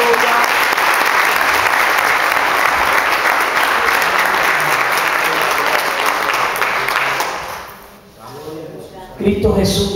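A church congregation applauds during a sermon, sustained dense clapping filling the room for several seconds before fading out, followed by a brief burst of noise at the end.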